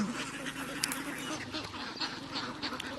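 Ducks quack repeatedly at a pond running low on water, their calls close and fairly busy over a steady outdoor background.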